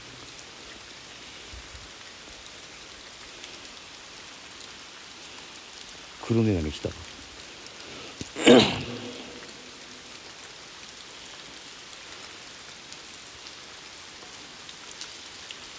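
Steady nighttime rain hisses outside the Tonoyama tunnel in Kanagawa, continuous and moderately soft throughout, with a couple of short bursts of speech near the middle.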